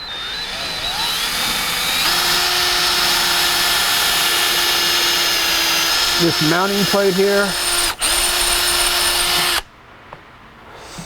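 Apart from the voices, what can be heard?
power drill with 1/4 inch bit drilling pedal mount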